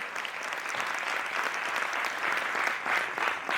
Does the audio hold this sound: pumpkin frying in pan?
no